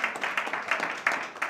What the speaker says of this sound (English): it warrants applause